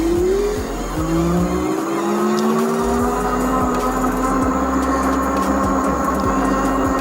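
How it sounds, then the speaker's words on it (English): A Windone K2 fat tire e-bike climbs a hill at full throttle from a dead stop, its motor whine rising steadily in pitch over continuous tire and wind noise. "So right now the throttle is pinned down and it's taking this hill at about 11 miles per hour."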